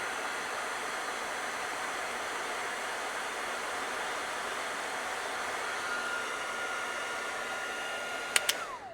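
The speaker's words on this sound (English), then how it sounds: "You could use a hair dryer." A hair dryer blows in a steady, loud whoosh with no change in pitch, followed by a couple of sharp clicks as it switches off.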